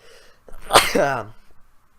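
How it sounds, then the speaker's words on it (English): A single loud sneeze erupts right into a close microphone, a sharp burst with a short gasping intake before it, during a spoken fantasy football draft recap. "I just sneezed really loudly into the microphone"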